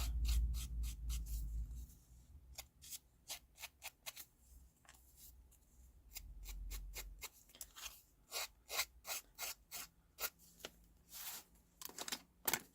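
Scissor blades scraped along the edge of card-paper scraps to rough them up, making a run of quick, dry rasping strokes, close and fairly quiet, in uneven bursts with short pauses between them.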